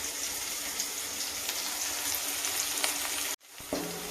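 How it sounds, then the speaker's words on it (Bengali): Onion fries in a pan with a continuous bright sizzle throughout, up close, with a brief cut to silence before the frying resumes. "এই দেখো পেঁয়াজটা একটু ভাজা ভাজা হয়েছে"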